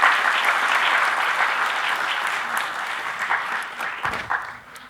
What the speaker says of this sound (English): Can we have a warm round of applause for him?